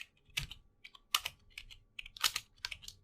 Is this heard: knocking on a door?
no